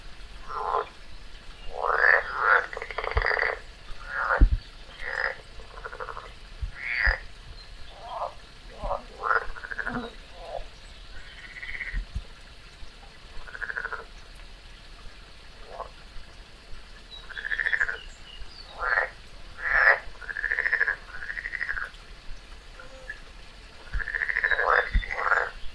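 Frog croaking in the wild while a garter snake hunts it: repeated short raspy croaks in bursts with pauses, moderately close against quiet natural background.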